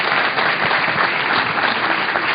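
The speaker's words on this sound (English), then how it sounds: "he deserves another round of applause" Dense audience applause at a political conference, a loud, continuous wash of many hands clapping with no break.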